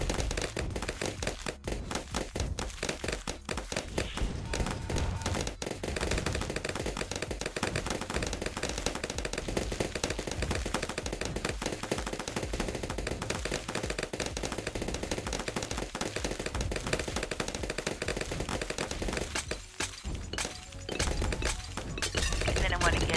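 Rapid, dense popping and crackling bursts from a Ring of Fire tack shooter tower in the Bloons TD6 video game run continuously, a busy layered barrage mixed low under occasional talk.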